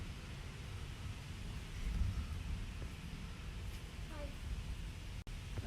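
Low thunder rumbles and rolls continuously beneath steady rain-like hiss during a summer evening thunderstorm, with a faint swell partway through and distant, muffled character.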